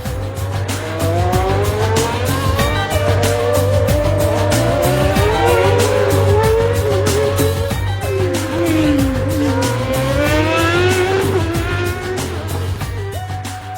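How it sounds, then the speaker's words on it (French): A car accelerates hard on turbo boost during a night drive in Monaco, the engine revving up through rising gears with tires squealing, loud and continuous for the whole stretch. "Je mettais le turbo pour rejoindre au plus vite la première étape de ma mission."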